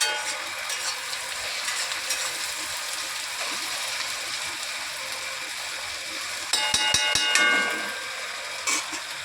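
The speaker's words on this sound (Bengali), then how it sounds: "আমি দেখি পেঁয়াজ ভাজা হোক।" Soft sizzling of onions frying in a pan, with a few clicks and scraping sounds of stirring toward the end.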